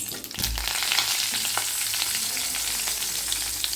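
Grated carrots sizzle steadily in a hot pan for carrot poriyal, a close, continuous frying hiss with light scraping as they are stirred.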